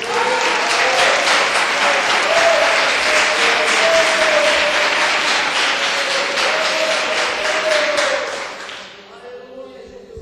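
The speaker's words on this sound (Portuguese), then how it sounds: "Pode dar uma salva de palmas para Jesus." A church congregation claps in sustained, dense applause for about nine seconds, loud and close, then the clapping fades to a few scattered claps.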